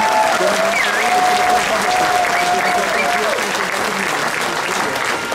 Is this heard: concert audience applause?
yes